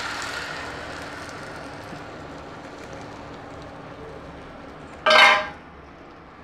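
Egg kalakki batter hits a hot dosa tawa with a short, sharp sizzle that flares up and fades after a long stretch of quiet kitchen hum.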